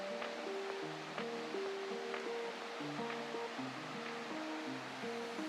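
A mountain creek in the Smoky Mountains, autumn, rushes with a steady, even broadband hiss of water, with a bright melodic tune playing over it throughout.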